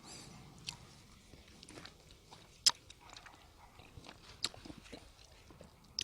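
Someone bites into and chews a silverberry fruit, with soft wet crunches and a few sharper clicks against a quiet background.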